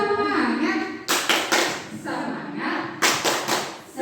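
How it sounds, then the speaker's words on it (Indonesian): A group of teachers at a kindergarten workshop claps in a rhythmic chant pattern. Loud, close, patterned bursts of hand claps are mixed with voices chanting along. "Tepuk semangat."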